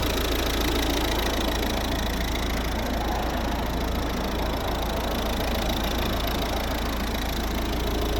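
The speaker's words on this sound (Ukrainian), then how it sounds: "Ось робота двигуна." A 2010–2012 Volvo V50 R-Design with a 1.6 D2 diesel engine and manual gearbox idling, a steady close rumble with a faint diesel clatter and an unchanging level throughout.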